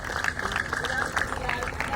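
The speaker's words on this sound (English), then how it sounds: "Guys, please give them a big round of applause" Audience applauding at a book launch event, a dense, steady patter of many hands clapping throughout the short stretch, moderately close, with a voice murmuring faintly underneath.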